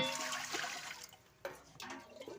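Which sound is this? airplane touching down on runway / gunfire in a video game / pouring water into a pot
pouring water into a pot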